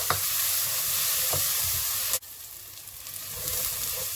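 Chopped chilies stirred into a sizzling marinara base with softened onions for chicken parmesan, giving a steady close frying hiss with a soft scrape near the middle and no talking.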